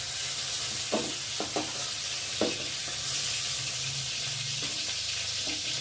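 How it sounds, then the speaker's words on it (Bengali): Prawns frying in hot oil in a pan, a steady broadband sizzle with a few sharp stirring scrapes and clinks scattered throughout, close and fairly loud, with no talking. "এত চিংড়ি মাছগুলোকে ভাজা ভাজা হয়ে গেছে,"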